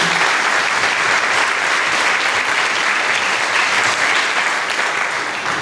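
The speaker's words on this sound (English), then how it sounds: "Please give her a round of applause." An audience at a women's empowerment mastermind event in San Antonio gives a speaker a sustained round of applause, a dense, steady wash of many hands clapping close by throughout.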